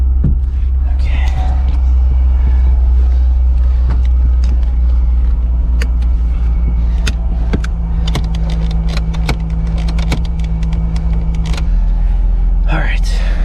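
A Nissan 300ZX idles with a deep, steady low rumble, then the engine note shifts as it pulls away, while people speak intermittently and short clicks and knocks come through near the microphone.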